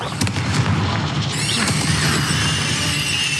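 Confringo fire spell bursting in Hogwarts Legacy, a loud booming explosion with crackling debris that rings on and fades over a few seconds, dense and close.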